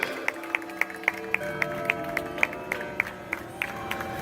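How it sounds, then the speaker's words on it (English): A small storytime audience claps for volunteers in a quick, even rhythm of crisp claps over a low background hum. "Let's give a big round of applause for these brave volunteers."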